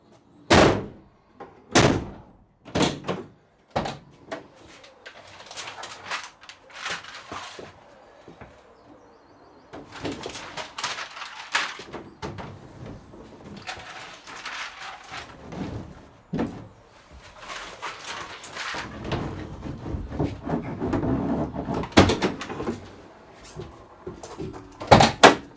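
The doors of a Mercedes Sprinter van being converted into a camper are shut over and over, sharp slams and thuds, some single and some in quick pairs, with softer handling noise and rattles between them.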